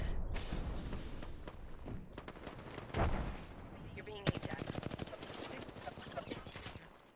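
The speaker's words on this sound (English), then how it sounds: "They're shooting at you." Rapid gunfire bursts from the video game Apex Legends crack in dense volleys, with heavy repeated shots, under excited talk from players.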